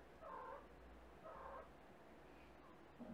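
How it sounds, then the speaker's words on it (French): A small cat meows softly indoors, two drawn-out calls about a second apart and a faint third at the end, quiet and distant under low background hiss. "Il y a le petit chat qui est en train de chanter"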